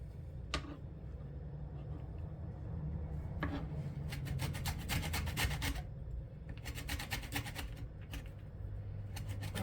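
A lemon being zested on a hand grater for lemon bread, giving repeated quick scraping rasps in short bursts with pauses between, close and moderately loud.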